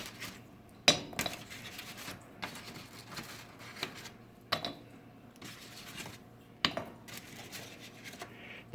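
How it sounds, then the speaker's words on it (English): Small Jiffy peat pellets tossed one after another into a big bowl, giving several sharp clinks and knocks spaced a second or two apart over a faint background. "all I'm going to do is toss these Jiffy pellets"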